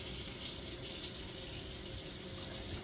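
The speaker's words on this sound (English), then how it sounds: "First thing I'm going to do is turn on the faucet." Water runs steadily from a multi-function kitchen sink faucet after a leak repair, a constant hissing stream splashing into the basin at moderate volume with no voices.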